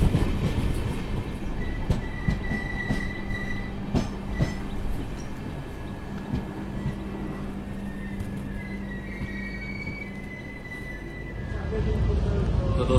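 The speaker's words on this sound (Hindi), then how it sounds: "विजयपुरा यशवंतपुर एक्सप्रेस।" The Vijayapura–Yesvantpur Express runs steadily along the track, heard from inside a Vistadome coach as a continuous loud rumble with clickety-clack wheel beats and faint squeals throughout.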